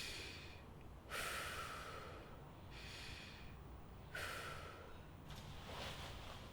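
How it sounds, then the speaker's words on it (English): Slow, deep breaths drawn in through the nose, two long airy inhalations with quieter exhales between, close and soft, with no talking. "Breathe in through your nose to the count of 4."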